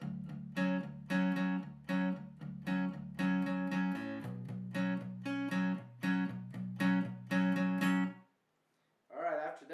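An acoustic guitar plays a song, with steady, palm-muted chugging strums in a driving rhythm that stop abruptly; a voice briefly begins speaking at the end.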